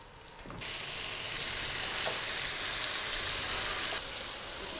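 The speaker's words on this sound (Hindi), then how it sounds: "पेस्ट ऑयल में फ्राई हो रहा है।" Ground spice paste frying in oil in a pan for chickpea curry, a steady bright sizzle that swells as the paste hits the oil and holds loud and continuous, then eases slightly near the end.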